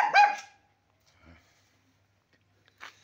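A mother dog missing a front leg, nursing four puppies, gives a short burst of loud, close barks, followed by a faint yelp and a brief distant sound, with quiet between.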